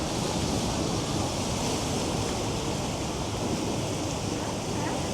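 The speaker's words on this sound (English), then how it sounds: "Got some good surge coming in." Ocean surge at La Jolla Cove, San Diego, washes in as a steady, loud broadband roar of waves with some wind buffeting.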